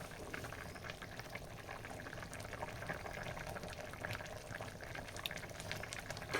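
Quiet bubbling of a country chicken curry simmering in a pot on the stove, soft continuous gurgles with occasional small pops, no talking.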